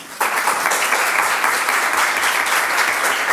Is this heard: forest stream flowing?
no